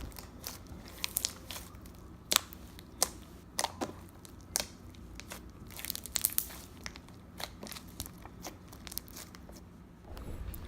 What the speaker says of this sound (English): this low-key had a crunchy effect on the slime